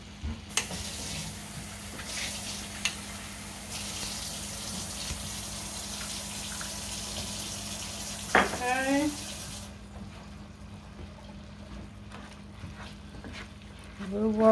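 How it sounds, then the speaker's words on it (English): Tap water running into a cooking pot while preparing nachos, a steady hissing stream for several seconds that stops abruptly, with a voice speaking briefly near the end. "I'm gonna get a little bit of water. A little tinge of water."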